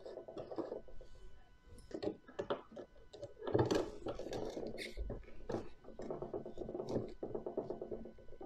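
A small screwdriver backs screws out of the receiver box on an Absima CR3.4 Sherpa RC crawler, giving a run of close, crisp ratcheting clicks and faint metallic ticks, with brief soft handling noise between turns.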